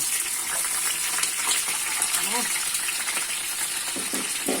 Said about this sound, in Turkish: Onun için bayağı bir sıcakta şöyle önce şeyleri kızartacağım. Biberleri yüksek ateşte arkadaşlar.